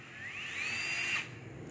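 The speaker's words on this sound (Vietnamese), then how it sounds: "Hitachi 18V không than." A Hitachi 18V brushless cordless drill spins up with a rising whine, holds a steady high-pitched run for about a second, then cuts off, faint and close.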